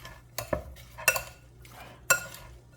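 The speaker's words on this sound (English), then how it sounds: "Okay, so now I'm gonna stir this." A spoon, one with slots in it, stirs a mozzarella, tomato and olive oil salad in a bowl, making three or four distinct clinks and scrapes against the dish with quiet gaps between.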